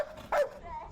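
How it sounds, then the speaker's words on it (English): A single short, loud bark from a former drug detection dog, close by, with a faint whimpering tone trailing after against a quiet indoor background. "A bark and then a hug."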